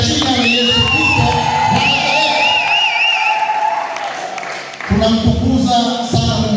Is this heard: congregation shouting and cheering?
yes